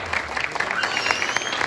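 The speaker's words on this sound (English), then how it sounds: "let's give them a round of applause" An audience at an Awana Grand Prix claps steadily and fairly loudly, dense applause holding throughout with a few faint voices mixed in.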